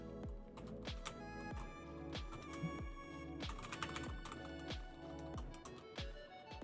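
Fingers tap quickly on a computer keyboard, a steady run of close, crisp clicks and key strikes with brief pauses between bursts.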